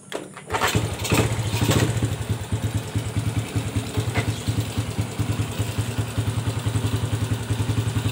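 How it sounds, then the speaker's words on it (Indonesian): An original Honda C70 motorcycle with its gearing changed to four speeds fires up, then settles into a steady, close, rhythmic idle that chugs evenly to the end. "Kita lihat, kita dengar mesinnya."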